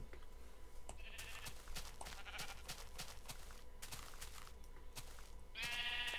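Minecraft sheep bleat repeatedly in a video game, short nasal cries spaced irregularly over soft background game ambience, fairly quiet and without speech.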